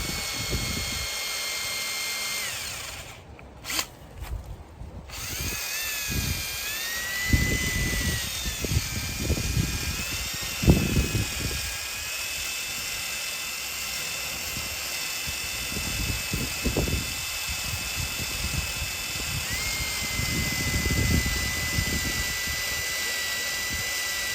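A power drill grinds steadily into a metal end post with a high motor whine, rough uneven chatter as the bit bores in, continuous for a long stretch.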